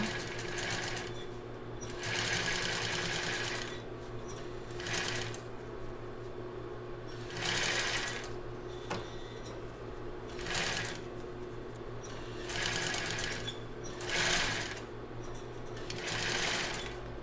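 A sewing machine stitches and backstitches children's bra fabric in repeated short runs of rapid clatter separated by brief pauses, close and clear.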